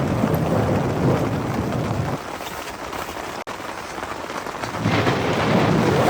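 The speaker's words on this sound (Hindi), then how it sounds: "बिजली कड़क रही है, बहुत ज़्यादा बिजली कट रही है भाई।" Heavy rain pounds a tent at a campsite at about four in the morning, a dense steady roar that dips briefly midway, broken by a single sharp thunder crack before the downpour swells back to full loudness.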